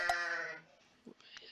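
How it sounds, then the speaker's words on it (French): A single sheep bleats clearly in Age of Empires II, followed by a few faint, soft game clicks. "Donc là il y a quelques petits moutons."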